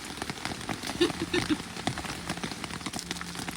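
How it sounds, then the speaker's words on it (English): Heavy torrential rain pattering densely on a surface nearby by the River Wye, a continuous irregular spatter of drops with no voices. "It's getting heavier, Yeah, the rain. full blown torrential now."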